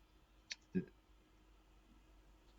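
A computer mouse clicks once or twice, short and faint, in a quiet room.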